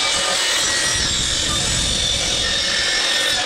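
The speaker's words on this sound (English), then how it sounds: "that is where I have to cut and make it an angle so I can get it onto my flange" A continuous loud cutting noise rises close by as metal tubing for a homemade turbo manifold on a Mazda MX-3 is cut, a steady harsh grinding rasp with no pauses.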